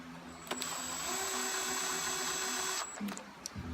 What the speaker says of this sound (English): When I use power tools, I just snug them down.